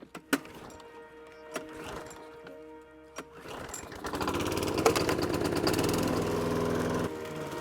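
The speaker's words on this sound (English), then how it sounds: "to mix it all up, I'm just going to use the lawnmower" A few clicks and clunks give way to a lawn mower engine starting up and running with a steady, rattling drone at moderate distance.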